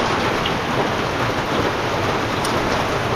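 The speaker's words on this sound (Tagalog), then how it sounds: "Yan na naman yung ulan. Marangkada na naman." Steady, heavy rain pours without a break, a dense wash of hiss with a few louder drops standing out.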